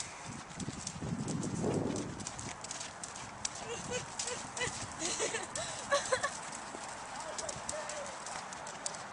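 Hooves of a horse ridden bareback clip-clop steadily on firm ground, close by, while people talk and laugh over the hoofbeats.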